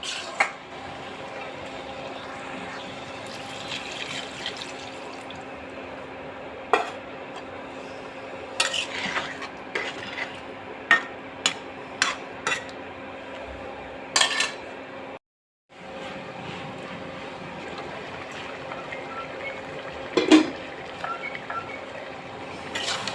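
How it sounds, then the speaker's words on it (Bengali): Stirring a pot of radish and eggplant curry, with scattered clinks of a utensil against the pot amid a low steady simmer, a brief silent gap, then a few more knocks as a lid goes on. "একটু নাড়াচাড়া করে এর মধ্যে একটু ঝোল দিয়ে ঢাকনা দিয়ে ঢেকে দেব"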